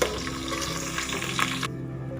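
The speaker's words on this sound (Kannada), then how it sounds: "ಸ್ವಲ್ಪ ಸಾಸಿವೆ ಹಾಕಿ, ಕಡಲೆಬೇಳೆ, ಇದ್ರ ಜೊತೆನೇ ಮೆಣಸಿನ್ಕಾಯಿನೂ ಹಾಕಿ ಸ್ವಲ್ಪ ಹೊತ್ತು ಫ್ರೈ ಮಾಡಬೇಕು" Mustard seeds, chana dal and green chillies fry in hot oil for rice upma, making a brief, bright crackling hiss that runs steadily, then its upper sizzle drops away abruptly, leaving a low murmur.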